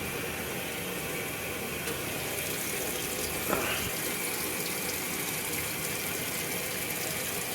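Water pours steadily into a Super Surgilator agitator washing machine, a small white load with a bath mat. The rushing fill is continuous and close, with one faint knock partway through.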